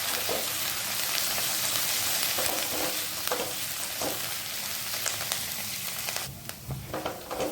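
Chopped garlic, green chili and curry leaves fry in a couple of spoons of hot oil, making a continuous close sizzle broken by regular stirring scrapes and taps against the pan.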